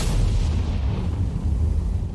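The FV4005 Stage II tank gun fires in a video game, a heavy low boom that starts loud and rumbles on briefly as it decays.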